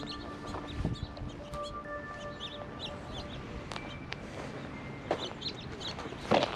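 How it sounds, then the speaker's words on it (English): Chickens cluck in short, repeated bursts outdoors at Albany Bulb, mixed with other bird calls and a few thin tonal chirps, moderately near over a quiet ambient bed. "Lots of bird activity out here."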